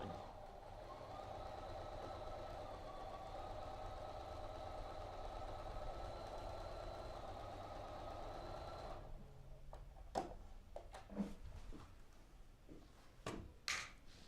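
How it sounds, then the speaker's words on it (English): A sewing machine stitches the border of a queen-size Tuscan Sunset quilt, humming steadily for several seconds before stopping, followed by scattered clicks and handling noises close by. "start sewing."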